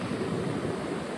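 Sea waves wash onto the shore at Ubharat beach in a steady, broad rushing surf, mixed with some wind noise and carrying on evenly over the brief stretch.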